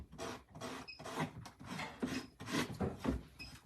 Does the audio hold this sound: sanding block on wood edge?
yes